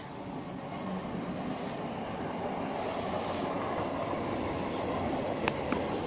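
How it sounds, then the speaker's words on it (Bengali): A train rumbling steadily past nearby, continuous roar of wheels on rails with occasional faint squeals and clicks. "ট্রেন যাচ্ছে"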